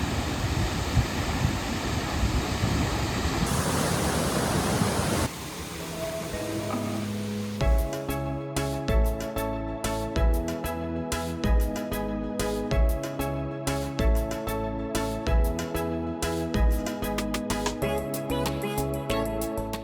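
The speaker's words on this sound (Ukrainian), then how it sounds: "водоспад, називається Стейндалсфоссен" Steindalsfossen waterfall in Norway roars as a steady broadband rush for several seconds before music takes over and masks it.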